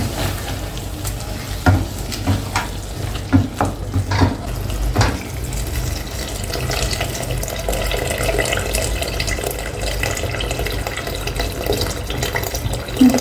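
Water is poured into a cooking dish of leeks on the stove, giving a steady splashing, sizzling rush with a few clinks in the first seconds before it settles into a continuous fizzing hiss.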